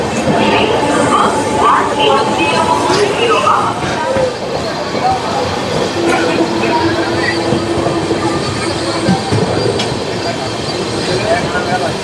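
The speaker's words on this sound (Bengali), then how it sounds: "12704 সেকেন্দ্রাবাদ থেকে হাওড়া ফলকনুমা এক্সপ্রেস। দেড় ঘন্টা লেটে পাস করছে।" The 12704 Secunderabad–Howrah Falaknuma Express passes close by at speed, a loud sustained roar of wheels and carriages with rattling and a faint squeal throughout, with a voice talking over it.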